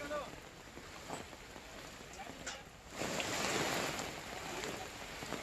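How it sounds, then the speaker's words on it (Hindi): Heavy rain pouring over flooded streets in Mumbai during a downpour: a steady wash of rain and running water that swells louder partway through, with faint indistinct voices in the background. "देर रात से हो रही बारिश के चलते मुंबई की सड़कों पर पानी भर गया है"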